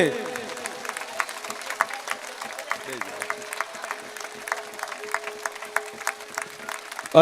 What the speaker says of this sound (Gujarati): હજુ કહું છું કરંટથી તાળીઓ પાડો તો જ સરકાર બને